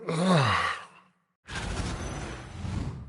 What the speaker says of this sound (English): See, every time you yawn, you make me yawn.